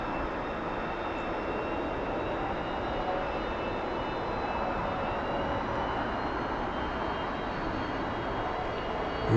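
Steady, loud jet engine roar from a T-45 Goshawk trainer on its takeoff roll in the DCS flight simulator, a broad continuous rush with a faint whine, holding level throughout with no talking.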